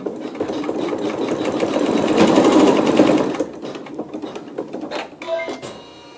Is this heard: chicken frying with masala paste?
no